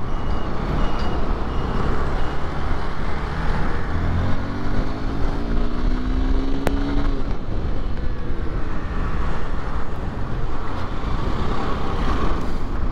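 A Honda XR190L motorcycle accelerating hard on a test pull, its engine roaring loud and steady close by, with a rising tone as it revs through the gears.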